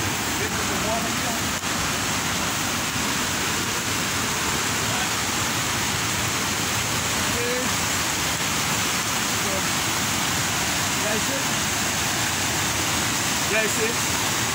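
Steady, roaring rush of the Kpatawee waterfall in Bong County, Liberia, loud and continuous throughout with no pauses.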